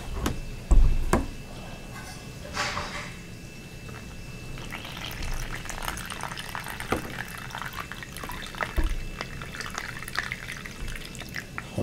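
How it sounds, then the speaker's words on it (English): Preheated water is poured into a ten-year-old army ration pouch, giving soft trickling and dripping sounds with occasional louder splashes and pouch rustles, close by and steady. "we will pour it up to the line and see what we can get"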